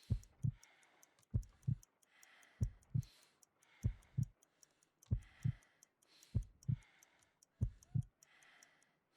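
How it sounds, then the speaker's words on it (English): A slow, weak heartbeat, around 50 beats per minute, in the video game Sherlock Holmes Crimes & Punishments: soft paired thumps repeat at a steady, even pace with faint ticking above. "I need to concentrate and count the heartbeats."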